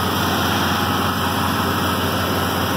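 Lawn mowers idling, among them a Kubota 21-inch push mower with a Kawasaki engine, producing a loud, steady close-up engine drone with dense broadband noise throughout.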